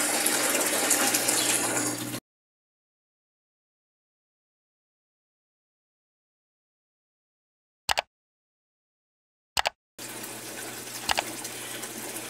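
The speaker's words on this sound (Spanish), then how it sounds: "y está drenando el agua" A Whirlpool semi-digital washing machine drains on its spin cycle: a steady rushing water noise, cut by a long stretch of silence and two brief clicks, then the rushing resumes.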